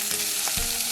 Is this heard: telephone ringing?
no